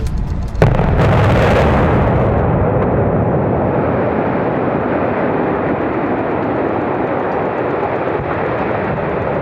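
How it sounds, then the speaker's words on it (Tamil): A 117 m power plant cooling tower is brought down by explosives: a sharp blast is followed by a long, loud rumbling roar of collapse that slowly settles into a steady low rush. "அதன்படி 117 மீட்டர் உயர கோபுரம் வெடிபொருட்கள் வைத்து இடிக்கப்பட்டது."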